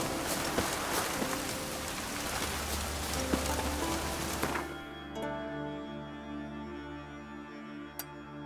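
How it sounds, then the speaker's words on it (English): Steady, dense rainfall in The Witcher 3 patters loudly for several seconds, then cuts off abruptly, leaving a quieter low hum with a sharp click near the end. "Oh, raining again."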